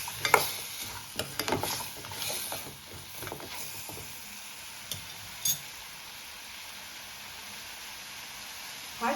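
Chicken soup ingredients being stirred in a pot, with a cluster of scraping and clinking strokes at first, then quieter intermittent taps over a low background hiss.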